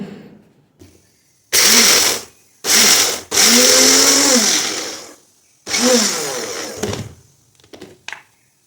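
A kitchen grinder coarsely grinds chilli, garlic and ginger into a paste in several loud whirring bursts of a second or more, separated by short pauses, the last bursts shorter and choppier.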